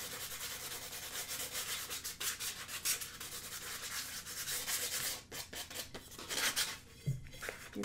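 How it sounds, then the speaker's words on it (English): Continuous scratchy rubbing of sandpaper roughing up the cured epoxy surface of a glitter tumbler, steady strokes close up with brief pauses and no talk. "You want to rough up the surface so that the next coat of epoxy will really stick."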